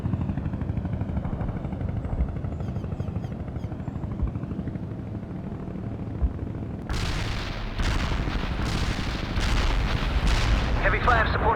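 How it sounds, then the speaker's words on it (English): In the World in Conflict video game, an artillery barrage rumbles in with low booming blasts that turn into a dense series of loud explosions, over a steady mechanical battlefield drone. "Artillery strike on the way."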